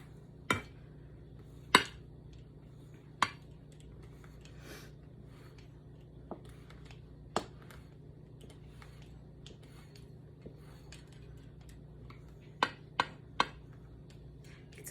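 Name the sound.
pizza cutter cutting dumpling dough into strips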